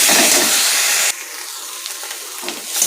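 A ground paste of bay leaf, cumin, ginger, garlic and onion is sautéed in a pan: a loud, steamy hiss that abruptly drops to a quieter sizzle with faint stirring scrapes.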